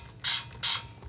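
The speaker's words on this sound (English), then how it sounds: "you spray water into a cup" Two quick hissing spritzes from a spray bottle spraying water into a cup, each a short burst of fine mist, close and fairly loud, separated by a brief pause.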